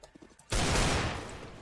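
A sudden close burst of automatic gunfire in CS:GO erupts after a few faint clicks and rattles on for about a second before tailing off.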